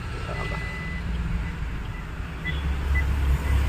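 A Swift Dzire car is put in reverse and gives a few short, high electronic reversing beeps over a low engine hum, with the beeps clearest near the end.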